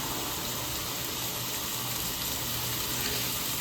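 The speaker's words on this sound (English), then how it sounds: "so I'm washing my hands" Tap water runs steadily as hands are washed in a home kitchen while a fish dinner is being cooked, a broad continuous rush that stays close and even throughout.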